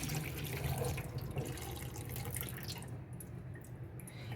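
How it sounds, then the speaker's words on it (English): Water drains off freshly harvested lettuce in a kitchen sink, a close trickling and splashing that runs steadily, then thins out toward the end. "now I'm just going to drain all the water off of here"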